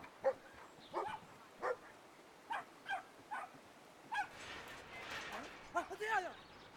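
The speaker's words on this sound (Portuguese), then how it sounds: "Tem uns cachorrinhos aqui, ó." Dogs in Brothers: A Tale of Two Sons give a string of short, high yips and whimpering barks in an irregular rhythm, moderately close, with the cries overlapping near the end.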